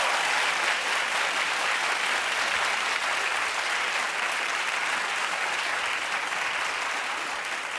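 A studio audience on a daytime talk show claps steadily and loudly throughout, dense applause with no voices rising above it.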